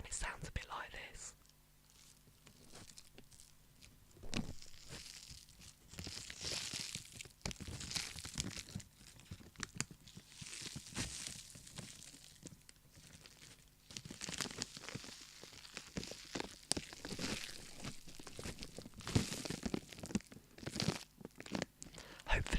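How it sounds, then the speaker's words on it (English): Powdery contents shaken inside a paper sparkler packet, a quiet, close grainy rustle and crinkle in irregular bursts that comes and goes throughout, with soft handling noises and no talk. "I noticed there's some sort of powder inside the packet, and it sounds a bit like this."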